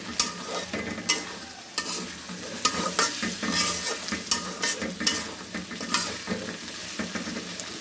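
Bitter gourd and potato frying in a pan, a loud continuous sizzle broken by frequent scraping stirs and clacks of a spatula, with no talking.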